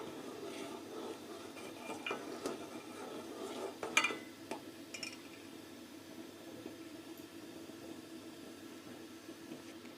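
A spoon stirs milk boiling in a pot for homemade eggless vanilla ice cream, giving soft intermittent scrapes and light clinks over a low, steady bubbling hiss, with a slightly louder knock partway through.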